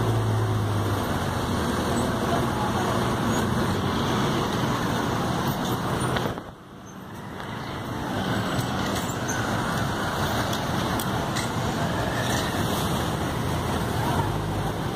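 Street traffic roars steadily on a road in Ji-Paraná, a continuous wash of passing cars, buses and trucks that dips briefly midway before building back to a constant loud rumble.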